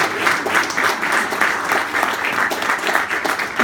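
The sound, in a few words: applause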